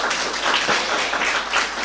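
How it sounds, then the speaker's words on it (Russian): An audience at a regional archives conference applauds, a dense, steady patter of clapping from the hall with no voices over it. "Еще раз аплодисменты."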